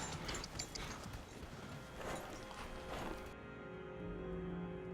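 Horse hooves clip-clop in a quick, fairly even rhythm, faint and a little distant, with a low steady background hum.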